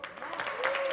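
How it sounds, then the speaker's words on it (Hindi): Brief burst of audience applause at a live stand-up comedy event for media, dense clapping mixed with voices and a faint tone. "जोरदार तालियां उसके लिए"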